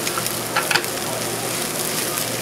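One large Idaho potato grated into hash browns crackles and fizzes in a frying pan, a steady close sizzle with a few brief scraping clicks as the potato is turned.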